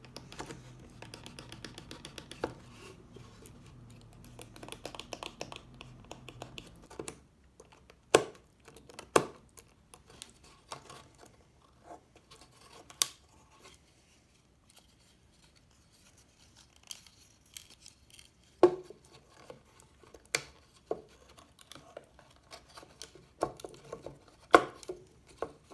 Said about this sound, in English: we're just going to cut those off with the knife